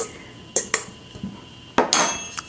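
A spoon stirs dry cracker ingredients, fresh-milled wheat flour with a pinch of paprika, in a bowl, making a few sharp separate clinks and knocks with quiet gaps between them.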